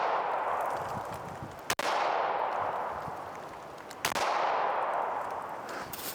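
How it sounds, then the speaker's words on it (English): Two sharp handgun shots crack at a shooting range, spaced a couple of seconds apart over a steady broadband hiss of outdoor background noise, each a single loud transient with no talk. "So I come out, I shoot."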